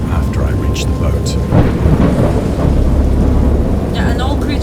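Thunderstorm in the Dagon horror game based on H.P. Lovecraft: a steady roar of heavy rain with low rumbling thunder swelling through, continuous and close, with faint voices mixed in.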